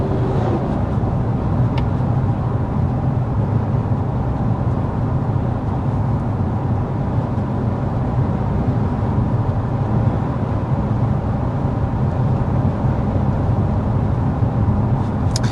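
Steady cabin road and tire noise inside a 2025 Toyota Camry XSE sedan cruising downhill at about 55 mph, a constant low rumble with no voices.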